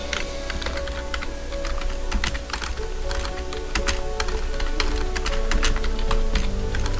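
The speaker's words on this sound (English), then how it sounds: "If you're wondering why I'm typing so horribly, it's because I'm holding a pen at the same time" Someone types on a computer keyboard while holding a pen, producing uneven, clumsy bursts of close key clicks over a steady background hum, with no talking.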